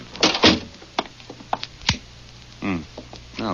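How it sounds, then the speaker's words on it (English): A door on an old radio crime drama set shuts with a soft wooden thunk amid light footsteps and shuffling, close and clear, with actors' voices nearby. "Well, close the door."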